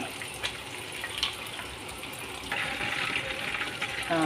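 Sauce poured over golden fried fish in a sauce-cooking dish, a soft steady liquid pour and splash that swells louder toward the end, heard up close with no talk.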